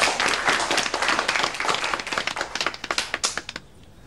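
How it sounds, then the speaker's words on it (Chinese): Classmates in a school classroom clap to welcome a new transfer student, a quick burst of applause that thins into distinct individual claps before stopping abruptly. "大家掌声欢迎一下。"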